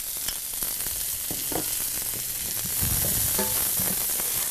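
About a cup of onions sautéing in a pan, a continuous close sizzle with scattered light scraping and stirring clicks, no voices over it.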